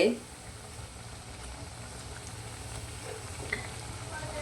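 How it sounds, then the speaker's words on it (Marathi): Spinach snacks shallow-frying in oil in a pan on their second side, a soft steady sizzle close by with faint crackles throughout. "आणि दुसऱ्या साईडनं पण यांना छान असे तळून घ्यायचे आहेत"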